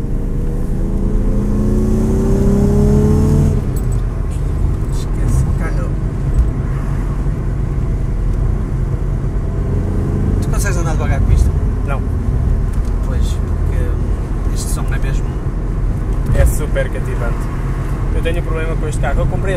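A Ford Sierra fitted with a Jaguar 3.0 V6 engine, loud and close, running with a rising rev early on and then a steady rumble, with voices talking over it.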